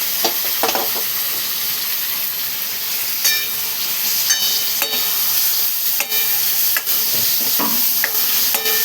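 Steady sizzling and frying from a pan, with occasional stirring clatter and sharp crackles over a continuous hiss.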